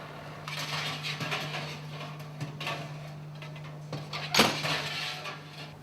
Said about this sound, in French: Mettre les œufs en coquille sur la grille du four.